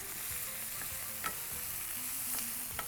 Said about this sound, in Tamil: இப்போது கேரட்டு, பீன்ஸு, இதுலேயே ஒரு 4 பட்டாணி வச்சுருக்கேன், போட்டு நல்லா வதக்கிறோம்